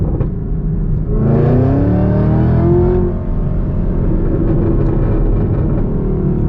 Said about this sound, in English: this aftermarket exhaust, this Corsa exhaust.